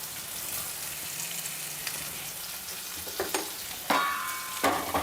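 Broad beans frying in oil with salt give a steady broadband sizzle for about five seconds, with a few sharper clinks and bursts of spitting toward the end.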